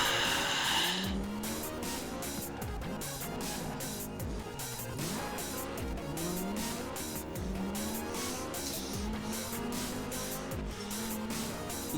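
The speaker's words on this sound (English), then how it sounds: "This car does slide far too much. It really doesn't have any grip." A low-grip car in Forza Horizon 4, racing in Scotland, slides and skids repeatedly, engine droning with rising and falling pitch as tires squeal in several drawn-out bursts, loud and continuous.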